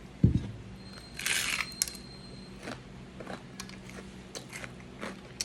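A crunchy okoy fritter is bitten into with one sharp, close crack, followed by a few lighter crunches and chewing noises, with no talking.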